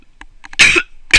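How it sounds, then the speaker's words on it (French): Two short, harsh coughs close to the microphone, separated by a brief pause, with faint quiet sounds before them. "je tousse un petit peu"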